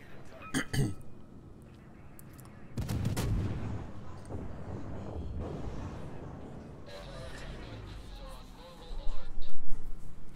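Anti-aircraft defense guns firing in a naval warfare game, with the Atlanta, Belfast and Flint in the battle: bursts of gunfire and booming blasts, a sharp one early, then sustained rumbling fire swelling louder near the end.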